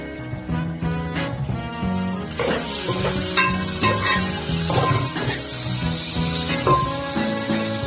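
Onions frying in a pan for chicken haleem, stirred now and then, giving a steady close sizzle broken by scraping and clanking utensil strokes throughout, with no talking.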